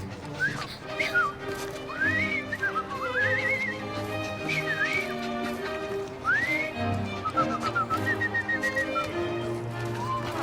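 Repeated melodic whistling from a character in Assassin's Creed Syndicate, with rising and falling phrases over a street ambience of horse hooves and carriage noise.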